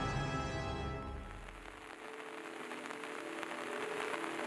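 Steady rain falls in the African wilderness where lions take shelter, a continuous broadband hiss fading in after a musical passage and holding evenly to the end.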